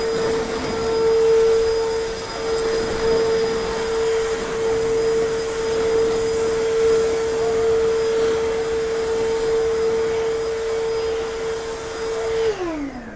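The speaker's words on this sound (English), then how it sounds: "This is going to be the most powerful backpack blower that we have in our class to this point." Powerful battery backpack leaf blower running, a loud steady high-pitched whine and rushing air held for about twelve seconds, then spinning down abruptly at the end.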